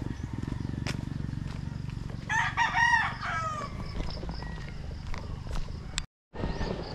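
Roosters crow and chickens cluck close by in a village, with one loud, drawn-out crow standing out above a steady rumbling background and brief chatter of the flock.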